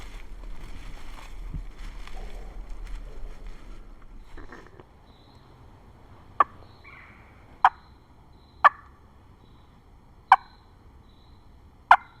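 Wild turkey gobbling in the Mississippi woods during a hunt, several sharp, distant calls spaced a second or two apart over a quiet background, following a stretch of low rustling and faint murmuring voices.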